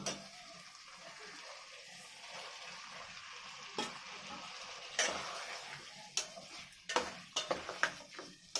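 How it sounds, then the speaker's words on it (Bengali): Fried pointed gourd (potol) pieces with turmeric sizzle softly in a pan for dudh potol, a low, faint frying hiss with quiet stirring that gives way to a cluster of sharper spoon clatters near the end. "পটলগুলো দিয়ে আস্তে আস্তে এগুলোকেও ভালো করে কষে নেবো"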